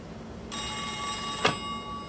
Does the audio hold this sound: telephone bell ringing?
yes